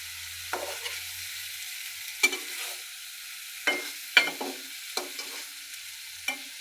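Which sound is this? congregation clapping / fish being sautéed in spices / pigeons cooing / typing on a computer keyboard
fish being sautéed in spices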